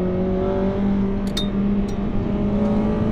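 A Honda Integra Type R DC5 with a Mugen engine runs with a steady, strong engine tone heard close from inside the car, holding a sustained pitch with slight variation and no talking.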